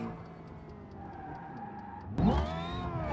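Twin-turbo drag car engine in BeamNG Drive racing game, a steady mid-level drone that suddenly surges into a louder, rising rev partway through, with no talk over it.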